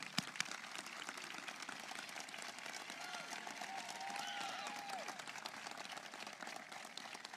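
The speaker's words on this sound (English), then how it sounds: "Give them a round of applause, please." Applause from an audience at a high school graduation ceremony for scholarship and award recipients, a steady, fairly faint wash of clapping heard from a distance that keeps going for several seconds.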